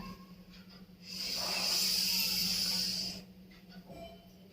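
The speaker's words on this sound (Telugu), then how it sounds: "ఇప్పుడు నేను కుడి ముక్కుతో శ్వాస తీసుకుంటున్నాను." Breathing in through the right nostril during pranayama: one long, steady, close airy inhalation lasting about two seconds, rising smoothly and then stopping, with quiet room tone before and after.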